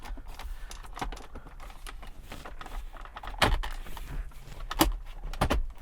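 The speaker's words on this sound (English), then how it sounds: "gently put your trim piece back in." A plastic dashboard trim piece on a 100 series Toyota Land Cruiser or Lexus LX470 is pressed back into place, giving soft handling rustles and several sharp, close snapping clicks.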